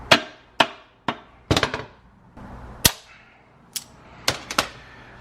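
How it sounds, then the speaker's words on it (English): A rubber mallet hammers a part onto a Serialnine CD999 shifter, giving sharp, close knocks at irregular intervals, some landing in quick clustered bursts, with brief quiet between blows. "We hammer it on with a rubber mallet."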